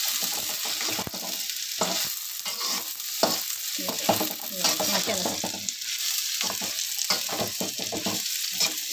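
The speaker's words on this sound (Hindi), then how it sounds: "इसी तरह इसे फ्राई करेंगे।" Bitter gourd coated in gram flour frying in a pan, a steady close sizzle with occasional stirring scrapes and clinks, continuous with no talk.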